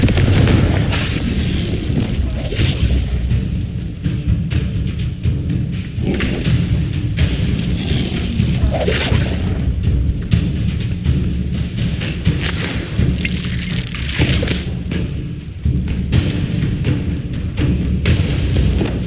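Confringo spell blasts in Hogwarts Legacy land as repeated heavy thuds and booms amid constant combat noise. The sound stays loud throughout, with no clear spoken words.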